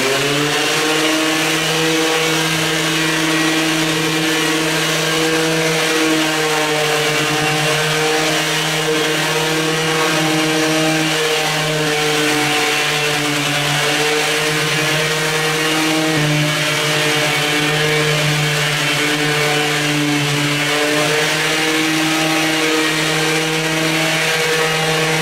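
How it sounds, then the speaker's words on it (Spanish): A floor sanding machine and a vacuum run together on a wood floor, a loud continuous motor drone with a steady pitched whine that holds unbroken from start to finish, with no talking. "vamos a prender el vacuum y vamos a prender la máquina"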